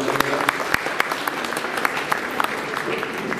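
Audience applauds vigorously at a district hospital ceremony inaugurating a new CT scan and digital X-ray machine, steady clapping with sharp individual claps standing out near the listener.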